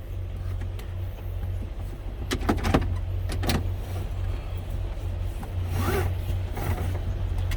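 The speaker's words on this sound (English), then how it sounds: "when I get into the truck, the first thing I want to do is" A seatbelt being pulled across and fastened inside a Class A truck cab: a few short rubbing slides and clicks over a steady low cab hum, close by, with no voices.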